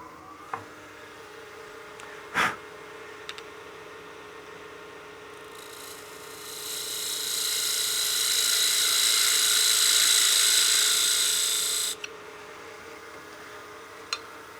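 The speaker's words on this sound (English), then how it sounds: "I'm actually going to get my spindle gouge and just give me one more pass just to clean that up." A spindle gouge makes a finishing pass on a piece spinning on a wood-turning lathe, a smooth hissing cut that swells for several seconds over the lathe's steady hum and then stops abruptly, with a few faint taps around it.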